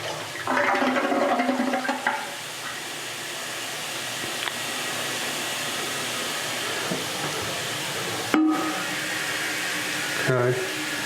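A household toilet in a home for sale in The Villages, Florida, flushes with a loud rushing surge in the first two seconds, then settles into a steady refill hiss, broken by a couple of brief clunks.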